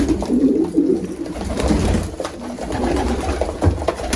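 A Spanish-breed pigeon in heat coos close by in repeated, throaty rolling calls, with soft rustling around it.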